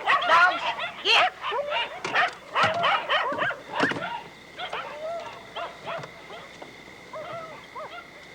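Dogs barking and yipping outside a rural Georgia home at night, a burst of close, excited barks and whimpers that taper off, with a man calling out over them.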